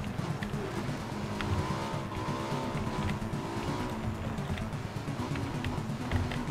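A vehicle's wheels skid and fishtail in PUBG Battlegrounds, a steady droning engine whine with wavering tire squeal over a continuous low rumble throughout.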